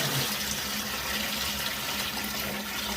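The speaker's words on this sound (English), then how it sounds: "I'm going to throw the water off. Most of the water." Water poured off from a container, a steady close rushing and splashing stream that runs without a break and has no voices over it.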